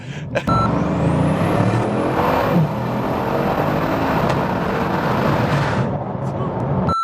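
A car engine roars steadily as the vehicle drives past at speed, with a rising whine and constant road noise before it fades near the end.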